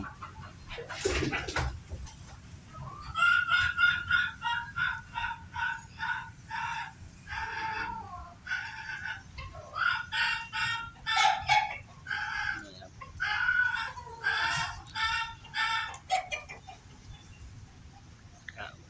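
Ornamental bantam chickens cluck in quick, repeated bursts after a brief crow near the start, close and lively, with the calls running almost continuously through the clip.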